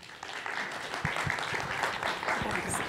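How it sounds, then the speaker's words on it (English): An audience at a green city event gives a brief, moderately loud round of applause, a steady wash of clapping with a few distinct claps. "please give a big round of applause"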